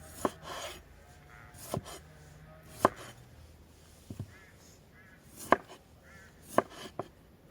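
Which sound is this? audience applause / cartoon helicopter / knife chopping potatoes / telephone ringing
knife chopping potatoes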